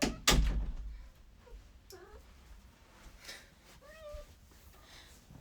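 A house cat meows at an office door to be let in, several distinct wavering cries spaced apart, close and clear, after a loud thump at the start, with quiet room noise between.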